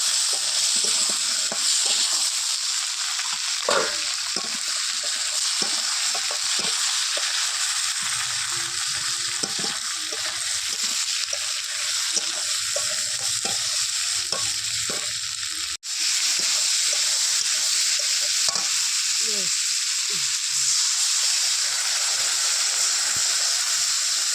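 Steady loud sizzling of potatoes frying with tomato and ginger-garlic paste in a pan, with repeated scraping and stirring strokes throughout and a brief drop in the sizzle partway through.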